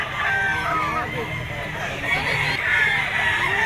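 A fighting rooster for sale at the Grotto pet market crows and clucks in drawn-out, strained calls, loud and near, over busy market noise with voices talking in the background.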